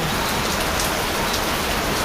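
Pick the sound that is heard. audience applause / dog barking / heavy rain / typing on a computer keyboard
heavy rain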